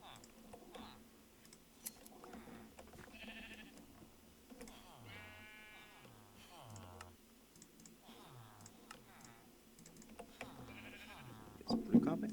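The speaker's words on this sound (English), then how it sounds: "See if my sheep have eaten some grass." Sheep bleat several times in a Minecraft game, the short cries rising over a soft clicking bed and quiet speech in the background.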